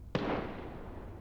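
A single sharp gunshot in the video game Arena Breakout: Infinite cracks out and rolls into a long, fading echo, sounding distant.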